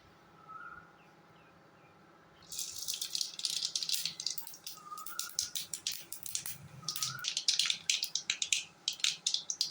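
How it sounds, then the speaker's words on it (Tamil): Mustard seeds hit hot oil in a pan while cooking Tamil raw banana fry, crackling and popping in dense, irregular bursts after a quiet start, close and sharp. "இப்போது கடாயில் தேவையான அளவுக்கு எண்ணெய் ஊற்றிட்டேன் இப்போ என்ன பண்ணுவோம் கொஞ்சமாக கடுகு போட்டுக்குவோம்"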